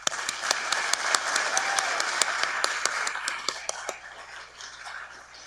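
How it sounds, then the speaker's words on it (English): Applause rolls through the audience at a pharmacy school hooding and awards ceremony, steady clapping from many people with a few sharper individual claps standing out before it fades toward the end. "Please join me in giving them a round of applause."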